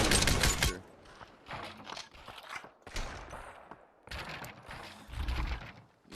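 Gunfire from weapons in the VR video game Population: One, an opening burst followed by several separate sharp shots with pauses and quiet handling noises between them, close and moderately loud.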